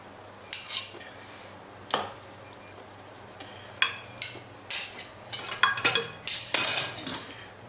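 A metal spoon scrapes and clinks against a pot of coq au vin while lifting out the onion and bacon garnish, giving a series of close, sharp taps and rattles with quiet pauses between them.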